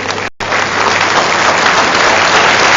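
Audience applause at the final debate of the second round of the 2017 Jakarta governor election, a dense, steady clapping across the whole stretch after a brief break near the start.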